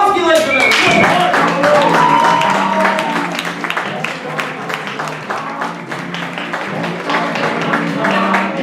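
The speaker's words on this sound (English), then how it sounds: "please give a round of applause for our film critic" Applause for a film critic guest at a talk-show style event, with a crowd clapping steadily and a few whoops over the start, clapping continuing strongly for several seconds.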